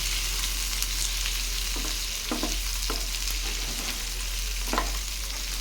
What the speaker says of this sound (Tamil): தக்காளி ரொம்ப வதங்க தேவையில்லை லைட்டாக ஒரு தடவை நம்ம வதக்கி விட்டால் போதும்